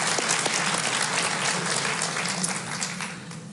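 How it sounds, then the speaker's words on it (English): Warm applause at a NATO public forum event, dense clapping from a large audience that holds steady and eases off slightly toward the end, with no speech over it. "Yes, please give your warm applause."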